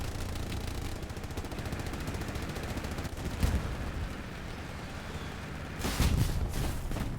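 Faint, rapid gunfire rattles continuously in the distance in the video game Hell Let Loose on the Hurtgen map, with a louder burst of shots near the end.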